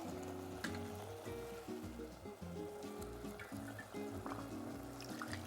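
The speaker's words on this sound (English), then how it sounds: "we will add 1 cup of water" Hot water poured from a kettle into a pot of quinoa with salt and pepper in a home kitchen: a quiet, continuous trickling pour with faint clinks, close by and without talk.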